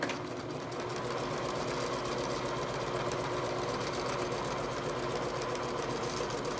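Sewing machine stitching a seam on a photo pillow, a steady, fast mechanical whir and needle clatter running continuously at close range, even in loudness from start to finish.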